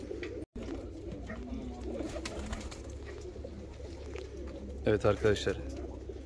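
Pigeons of show breeds such as Maltazar, Japanese, Könenberg, Helmut and Hünkari, kept for sale, coo in low, steady murmurs throughout, with someone speaking briefly near the end.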